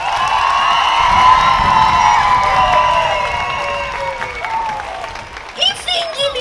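An audience at a Persian family day dance competition applauds and cheers the dancers in a loud, sustained burst of clapping with whoops and children's shouts, thinning toward the end as voices break through.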